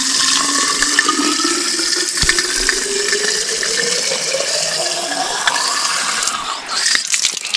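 Tap water pours steadily into a bottle, a continuous loud gushing with a pitch that slowly rises as the bottle fills, close by and with no talking.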